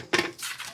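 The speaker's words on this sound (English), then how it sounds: "Scrape down the sides." A spatula scraping around the sides of a bowl of rum cake batter, one brief close scrape followed by a softer rubbing sweep, short and quiet.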